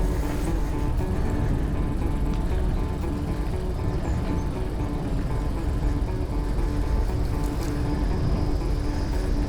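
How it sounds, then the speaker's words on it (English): Train running into Oxford beside a canal trail, a steady broad rumble that holds through the whole stretch at moderate loudness, with no speech. "on the right hand side you probably hear a train going past"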